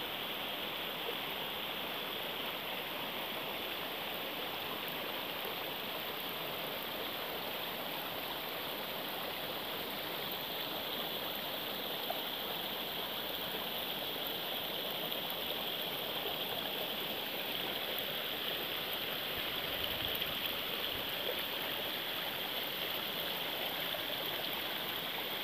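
Constant rushing water of a waterfall in tropical rainforest, a steady broadband hiss with no variation, heard alone at moderate volume.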